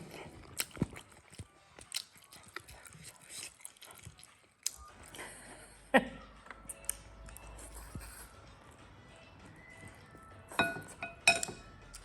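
Sparse glass clinks and tinks ring out in a quiet room during a meal of braised pig trotters and chicken feet, mixed with soft chewing and gnawing, followed by a brief clink of glasses for a toast.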